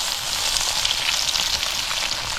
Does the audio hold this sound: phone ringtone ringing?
no